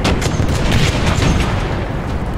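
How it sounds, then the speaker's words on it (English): Rapid automatic cannon fire from an Otomatic anti-air gun shooting darts in War Thunder, a dense, continuous burst of loud booming shots with no pauses. "the Otomatic, shooting its darts with about 310, 311 millimeters of penetration"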